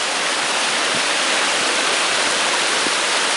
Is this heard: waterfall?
yes